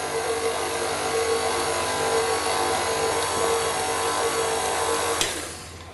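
An electric kitchen mixer whirs steadily through eggs, sugar and melted white chocolate for brownie batter, a constant high motor buzz that cuts off abruptly near the end, close and alone.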